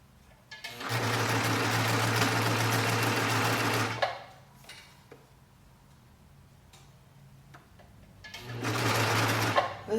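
A cover stitch sewing machine runs through fabric in two bursts, a steady fast whirring hum for about three seconds, a quieter pause with faint handling noises, then another shorter burst near the end.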